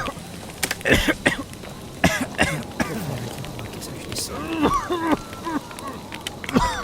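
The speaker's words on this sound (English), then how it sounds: "I've never known anyone to cough this much next to a bonfire." A video game character coughs and clears their throat in short bursts beside a bonfire, with scattered crackling noise in between.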